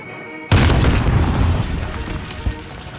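A grenade explodes in a multiplayer video game match, a sudden loud boom that cuts in abruptly after a brief lull and then rumbles and decays over a couple of seconds, with a smaller pop near the end.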